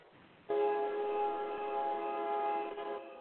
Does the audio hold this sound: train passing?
yes